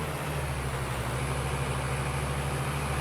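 Tractor engine in a farming simulator game running at a steady, loud, continuous drone with a low rumbling throb and broad hiss, unbroken throughout, with no talk.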